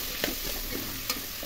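Chopped ivy gourd (tindora) cooking with spices in a pan over a low flame gives a steady, soft sizzle, with two brief scraping stirs standing out. No one speaks.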